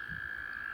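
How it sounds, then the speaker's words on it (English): American toads calling at a breeding pond in late spring: a sustained high, steady trill, fairly faint and unbroken, with no other sounds. "By late spring, the American toads had begun their breeding rituals."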